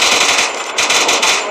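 A rapid machine-gun burst from a video game shooter shooting down a hacker, fast evenly spaced shots rattling loudly and close for about a second and a half with no talk.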